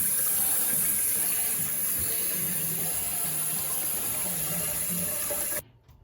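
Tap water runs steadily into a sink for hand washing in a home kitchen, a broad continuous gush at close range that stops abruptly near the end.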